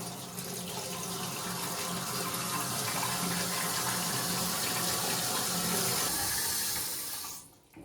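Water runs steadily into a Visam concealed toilet cistern right after its inner fill mechanism was replaced, a constant close rushing fill with no pauses that cuts off sharply near the end.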